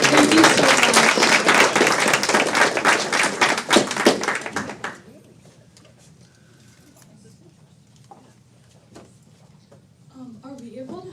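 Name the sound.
audience applause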